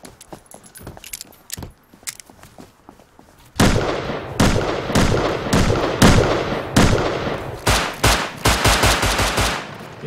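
Gunfire in the Rust video game: a quiet stretch with faint clicks, then loud rapid bursts of shots and sharp cracks from about midway, continuing in dense clusters to the end.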